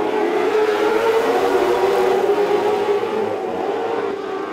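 Formula 500 race cars start a feature race at a speedway, a loud sustained roar of several engines revving together at full throttle that holds steady and eases slightly toward the end.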